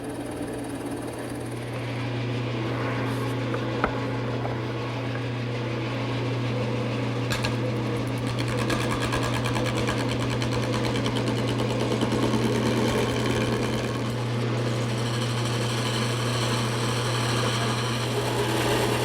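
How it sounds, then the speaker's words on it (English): A drill press with a 7/8 inch Forstner bit bores all the way through a wooden croquet mallet head, giving a steady mechanical whir with a low motor hum throughout, loud and continuous. "So I'm using a 7/8 inch Forstner bit, and I'll drill all the way through."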